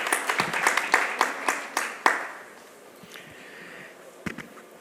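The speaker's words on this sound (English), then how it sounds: "please help me welcome him to the podium with a huge round of applause" Applause welcoming the European Union Ambassador to India to the podium at a conference inauguration: crisp claps from a smaller audience in a room, loud at first and thinning out after a couple of seconds, with a few faint scattered claps at the end.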